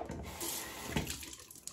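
A bathroom tap runs steadily as a Gillette Black Tip X3 safety razor is rinsed under the water, with a close, splashing stream throughout.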